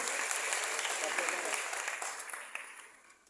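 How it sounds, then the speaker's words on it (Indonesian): An audience claps for youth delegates from Central Papua at a youth forum, a dense broadband patter of many hands that fades gradually toward the end. "tepuk tangan buat teman-teman kita dari Papua Tengah."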